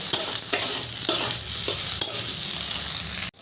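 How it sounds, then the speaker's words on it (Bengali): Small potato pieces frying in hot oil with whole cumin, a loud, steady, close sizzle with faint stirring knocks now and then, cutting off abruptly at the end. "এবার আমি তেলের মধ্যে দিয়ে দিচ্ছি ছোট ছোট টুকরো করে কেটে রাখা আলু এবার আলুগুলো ভালো করে ভাজবো"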